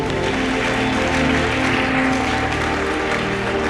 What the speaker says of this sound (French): Acclame très fort, c'est fait.